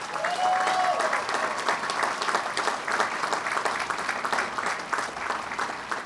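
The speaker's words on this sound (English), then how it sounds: "Would you please join me in a round of applause for the talented and hardworking staff in campus operations, grounds," Commencement audience gives a loud, steady round of applause for campus staff, many hands clapping in a dense, continuous roar that carries on for several seconds.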